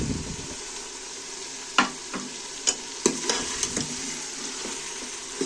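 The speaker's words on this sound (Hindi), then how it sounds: "अब इसमें मैं डालूँगी हरी मिर्चें और टमाटर।" Green chilies and tomatoes frying in mustard oil with turnip and mutton curry, a steady close sizzle broken by several sharp clinks and scrapes of a spoon stirring in the pan, with no talking.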